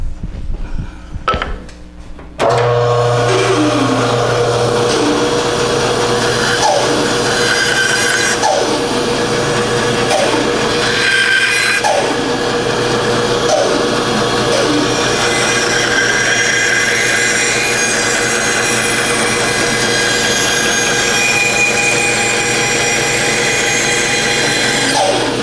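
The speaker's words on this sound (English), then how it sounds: "And we'll cut that out of the bandsaw." A bandsaw cuts out a wooden top launcher shaped for a small child, the blade's steady mechanical whine running loud and continuous for over twenty seconds after a short start-up, with faint pitch shifts as the cut progresses.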